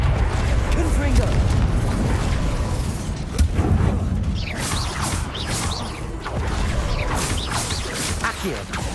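Confringo spell explosions in the video game Hogwarts Legacy, with booming blasts and whooshing bursts layered over dense combat noise, continuous and loud, with spoken voices in the mix.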